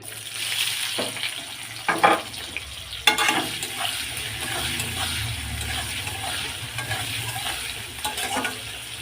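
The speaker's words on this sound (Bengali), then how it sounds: "পেঁয়াজগুলো লাল করে ভেজে নেবো" Onions fry with a steady sizzle in a pan while a spoon or spatula stirs and scrapes at intervals, with a few louder clinks near the start; for a thin chicken curry with potatoes, after a little sugar was added for colour.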